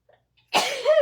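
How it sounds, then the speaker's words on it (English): A single sharp sneeze bursts out after a brief quiet pause with a faint intake of breath, close and loud, ending in a voiced tail. "I can't, hang on, I sneeze."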